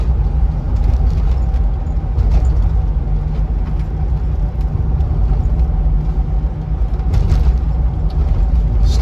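Steady low road rumble from inside a Land Rover Discovery 3 V8 with manual gearbox as it drives along, a continuous cabin drone with faint rattles from a camera mount and occasional sharper knocks.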